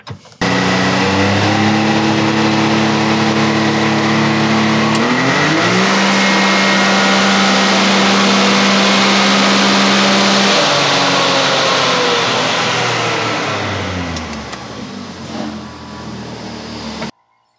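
A tuned Can-Am X3 side-by-side on an ECU tune roars loudly at sustained high revs, stepping up in pitch, holding steady, then winding down near the end, close and alone.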